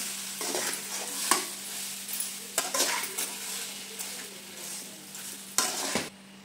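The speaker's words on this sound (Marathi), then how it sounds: "आता आपल्याला मॅश केलेले बटाटे घालून घ्यायचं आहे। आपल्याला चांगलं असं एकजीव करून घ्यायचं आहे।" Mashed potatoes being stirred into a vada pav filling in a pan, with a spoon scraping and clinking against the metal over a faint steady sizzle and a few sharper knocks.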